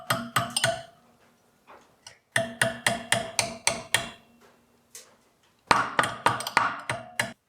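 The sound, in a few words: hammer gently tapping metal hook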